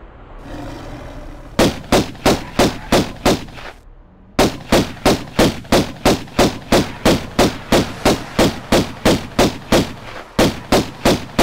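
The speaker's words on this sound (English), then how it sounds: "I think I'll just shoot them now" Pistol shots in Tomb Raider 1 from 1996 crack out in fast, evenly spaced pairs and runs, loud and dry, about two dozen in all, with a short pause after the first burst and another near the end.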